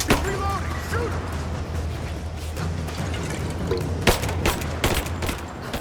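Bursts of gunfire crackle through a Tomb Raider firefight, several sharp shots clustered near the end over a dense, droning game soundscape with a voice talking.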